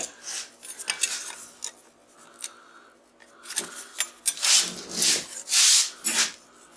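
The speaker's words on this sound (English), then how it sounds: "So I just want to scribe a quick line." A scribe scratches a line across a steel transformer lamination while the unit is stripped for copper scrap, giving short scraping strokes that build to louder, harsher rasps near the end, close up and without talk.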